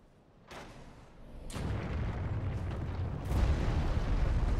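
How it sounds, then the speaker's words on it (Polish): Explosions in Dark Souls 3, Ashes of Ariandel, roar out in several heavy bursts, each a sudden broad blast that swells into a sustained rumbling wash, loud and dense with no talk over them. "Teraz mi to wybuchnie, tak, oczywiście, że mi to wybuchnie."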